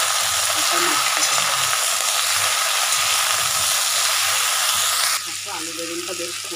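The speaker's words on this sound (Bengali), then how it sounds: "আলুটা একটু ভাজা হয়ে যাওয়ার পর এদিকে বেগুনটাকে দিয়ে নুন আর হলুদ দিয়ে এটাকে ভালো করে কষিয়ে নেব।" Potato and brinjal pieces fry with salt and turmeric in a hot pan, giving a loud, steady sizzling hiss that runs continuously and eases slightly near the end.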